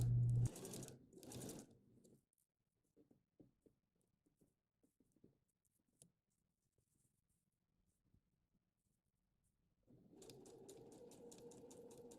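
Sewing machine stitching a sleeve into a child's shirt, two loud bursts of rapid needle running at the start, then quiet handling clicks and a final steady run.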